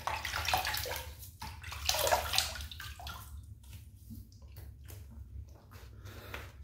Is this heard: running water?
yes